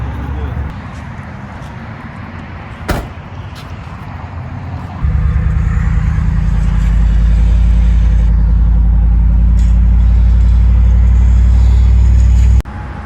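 A Chevy OBS truck engine cranks and starts, then settles into a loud, steady idle that runs close by for several seconds before cutting off; a brief knock comes just before it catches.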